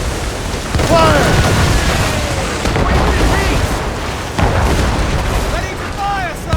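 Ship cannons fire during a naval battle in Assassin's Creed Rogue, with deep booms that repeat over a rumbling sea and wind bed and shouted crew voices between the shots.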